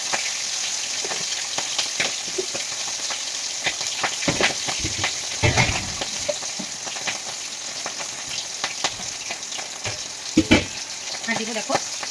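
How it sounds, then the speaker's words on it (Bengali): Cumin seeds, dried red chillies and an egg frying in hot oil, with a steady sizzle broken by sharp spattering pops and a few louder bursts near the end, no talk. "তেল ফাট ফাট করে ফুটে যাচ্ছে আমার গায়ে"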